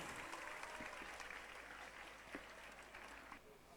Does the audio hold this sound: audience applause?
yes